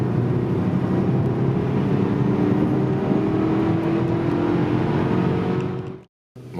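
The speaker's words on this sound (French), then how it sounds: "Voilà, là on est en seconde. Je peux mettre gaz en grand." Saab 9-5 Turbo accelerating at full throttle in second gear, a loud, steady engine drone heard from inside the car that cuts out abruptly near the end, no talking.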